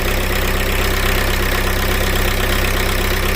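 A car engine running at idle after being jump-started with a Lidl battery booster, a loud, steady, close rumble with an even mechanical chatter throughout.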